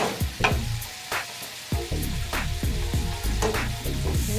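Chicken stir fry sizzles and crackles in a hot pan, with steady close frying hiss, scattered pops and the scrape of stirring, and no talking.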